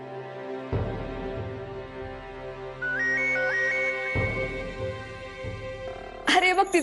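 A phone rings nearby with a repeating electronic melody that plays over background music and scattered noises.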